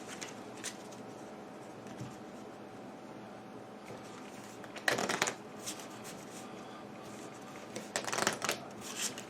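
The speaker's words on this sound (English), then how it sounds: "It's a fairly large stack, it's still a little small to shuffle." A fairly large stack of Pandemic Legacy board game cards is shuffled by hand, two short riffling bursts standing out over a quiet room, close and crisp.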